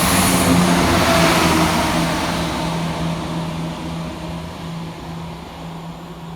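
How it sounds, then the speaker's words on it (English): West Midlands Railway Class 196 unit 196108 powers through Barnt Green station on a Hereford to Birmingham New Street run, a loud engine drone with a steady hum that fades gradually as the train moves away. "Powering through the opposite direction is 196:108, working 1 Mike 59 for West Midlands Railway from Hereford through to Birmingham New Street"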